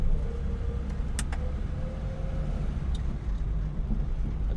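An Austin A30 pulls away hard under heavy throttle, a steady, close engine drone mixed with wind rush, with a few sharp clicks and rattles over the top.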